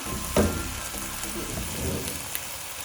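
Green peas fry in a little oil for chicken fried rice, a low, continuous sizzle with a brief clatter as they drop into the pan, heard close with no voices.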